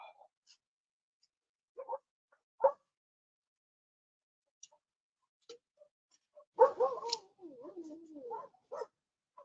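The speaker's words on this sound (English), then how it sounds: "I don't understand dogs that need to bark like that continuously" Dog barking repeatedly at a distance outdoors under trees, scattered faint yaps and barks with gaps of quiet between them.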